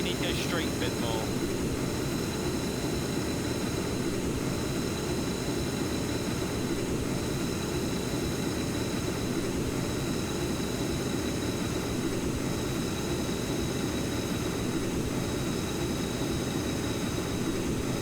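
Aircraft taking off at night in the video game Stormworks: Build and Rescue, a steady, loud broadband engine roar that holds unbroken for the whole stretch.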